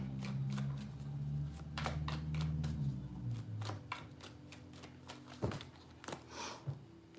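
Tarot cards are shuffled in quick riffling bursts, a series of crisp flutters and taps over a low hum, close and fairly quiet.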